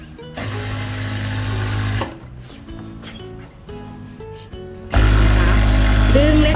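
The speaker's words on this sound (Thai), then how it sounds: "นี่ค่ะเย็บไปเลยค่ะ" A sewing machine stitches curtain fabric with a steady loud motor hum in two long runs separated by a pause, while someone talks in between.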